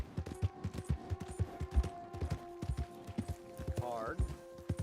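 Horse hooves clip-clopping in the video game Red Dead Redemption, a rapid steady rhythm of close, distinct hoofbeats with a brief whinny near the end.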